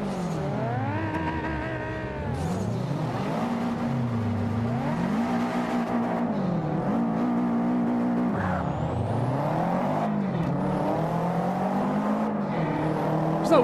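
Race cars in Forza 5 drive on a normal track, engines loud and close, revving up and down through gear changes and bends in a continuous whining drone.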